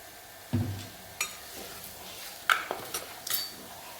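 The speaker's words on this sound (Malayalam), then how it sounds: "ശേഷം നമ്മൾ എടുത്തു വച്ചിരിക്കുന്ന ഈ മസാലക്കൂട്ട് ആവശ്യത്തിന് ഒരു ഷാറോടെ എണ്ണ ഒഴിച്ചു കൊടുക്കാം" Spice mix for tomato rasam going into hot oil, with a few sharp clanks and taps of a pan and spoon over a light, low sizzle.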